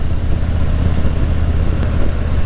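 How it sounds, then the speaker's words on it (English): A 2017 Harley-Davidson Street Glide Special's 107 Milwaukee-Eight engine idles steadily with a deep, rumbling low-end throb, loud and close, with no voices. "Milwaukee 8 engine."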